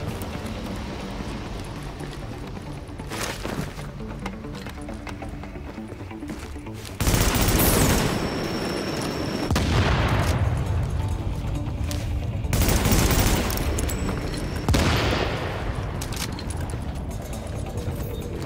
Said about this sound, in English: got to blow up all of these propane tanks